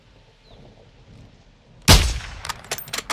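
A single loud sniper rifle shot cracks out in Call of Duty: Modern Warfare II after a quiet stretch, followed by ringing metallic clangs and echoing reports that fade out.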